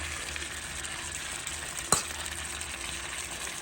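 Shrimp and toothfish curry cooking in a pan gives a soft, even sizzle with faint stirring, plus one brief sharp clink near the middle.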